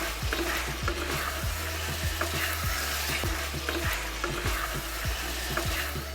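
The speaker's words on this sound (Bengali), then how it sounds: "দিয়ে এবার মশলাটা দিয়ে ভালো করে কষাবেন।" Spice paste for a potato curry sizzles steadily as it is sautéed in a pan over low gas, with a constant frying hiss and regular scraping strokes of a spoon, close and alone.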